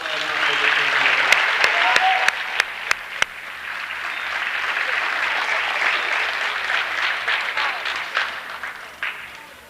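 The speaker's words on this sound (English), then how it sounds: "So how about a round of applause?" A crowd at a high school basketball tournament applauds the volunteers, beginning with a few sharp separate claps that build into sustained clapping and then taper off.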